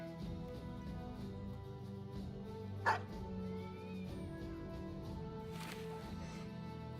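A dog barks a few times in the Battle Brothers video game, set over a steady game music background, with one sharp bark standing out near the middle.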